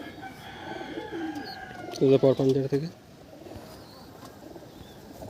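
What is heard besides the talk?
pigeons cooing in a loft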